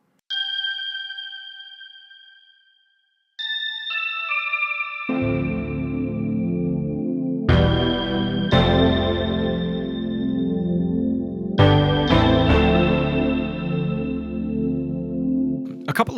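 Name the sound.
bells patch on Roland Juno 106 synthesizer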